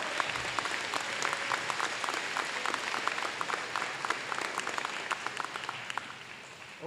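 A school audience of children and adults gives a round of applause for supporting representatives at a scholarship event, many hands clapping steadily in a hall for about seven seconds before tapering.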